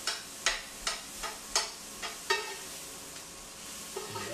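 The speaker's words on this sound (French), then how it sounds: "je fais tout sauter ça comme il faut" Onions sautéing in a pan for a chicken quesadilla, a steady sizzle broken by regular scraping strokes of a utensil, close and clear.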